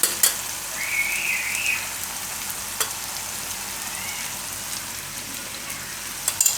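Coriander-cumin powder, turmeric and red chili fry with onions in a pan for paneer bhaji, a steady close sizzle with a few sharp clinks of a spoon and a brief whistling hiss.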